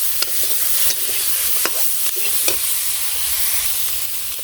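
Vegetables sautéing in a pan give a steady close sizzle, with a handful of sharp clicks and scrapes from stirring scattered throughout.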